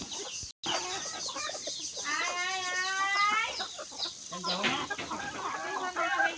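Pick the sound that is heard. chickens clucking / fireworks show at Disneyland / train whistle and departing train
chickens clucking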